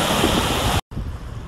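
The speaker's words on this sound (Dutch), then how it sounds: "En je kan hier heel goed zien hoeveel geweld dat er achter dit water zit." High floodwater roars at a small sluice near Zuilichem, a loud, dense, continuous rush of water broken by a brief dropout before the torrent returns slightly softer, with no voices.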